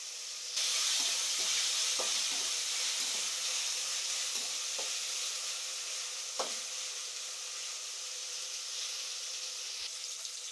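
Ginger garlic paste and curry leaves hit hot oil, setting off a sudden, steady sizzling hiss that carries on throughout, broken by a few faint clicks of stirring; no one speaks.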